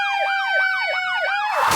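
An ambulance siren wails in a rapid repeating yelp, close and loud, with a burst of noise as it ends.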